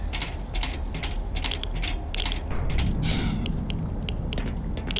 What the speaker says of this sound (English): the elevator will take us up to safer ground where we need to be